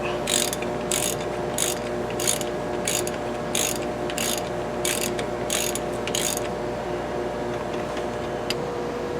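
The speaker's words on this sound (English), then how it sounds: "So this one I'm going to tighten down till it's actually snug" A socket ratchet snugs down a vehicle's brake bolts, letting out about ten evenly spaced bursts of rapid clicking close by over a steady background hum, then stopping.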